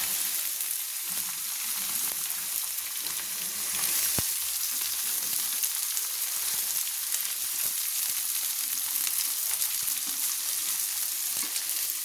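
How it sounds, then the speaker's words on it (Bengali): Chopped capsicum and beans frying in a pan for Kolkata-style chicken chow mein, a steady close sizzle running throughout with occasional clicks of stirring, no talking. "তুলে দিলাম ক্যাপসিকাম, কুচিয়ে রাখা ক্যাপসিকাম।"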